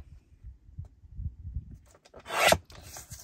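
Card stock for a card front is cut, with soft low rubbing and handling noises followed by a brief, brighter rasping slice near the end, close and quiet.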